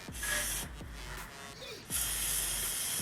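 WD-40 sprayed from an aerosol can onto two exhaust bolts under a lifted Toyota Celica GT-S: two loud, close hissing bursts, one long and one shorter, separated by a quieter gap.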